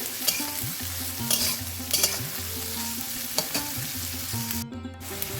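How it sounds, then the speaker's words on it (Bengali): Mixed vegetables for street-style chowmein sizzle in a hot pan, with repeated stirring strokes and metal scraping over a steady frying hiss. "সবজিগুলো যখন দেখো এই রকম পর্যায়ে ভাজা হয়ে আসবে না একটু লালচে কালার ধরবে"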